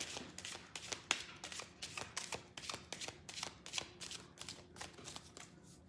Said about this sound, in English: These are James Van Praagh's cards.